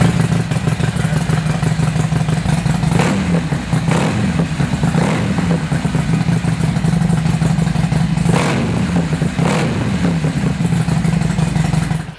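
A 2007 Storz XR 1200 performance dirt tracker motorcycle with fuel injection starts cold and runs, its engine producing a loud, steady low rumble with several brief revs rising above the idle.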